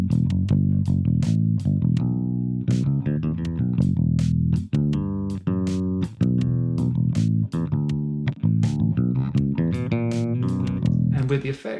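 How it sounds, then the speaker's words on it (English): A clean, direct-input bass guitar played through Logic Pro X runs busy melodic lines with quick notes and slides, dry and close, heard alone. "So my pure DI sound sounds like this."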